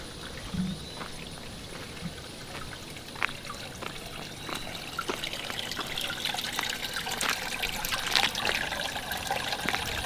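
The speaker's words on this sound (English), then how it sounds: "Water is seriously running out of there and into the drain." Water runs steadily out of a leaking outdoor faucet into a drain, a continuous trickling and splashing heard close up with scattered sharper drips over a constant wash.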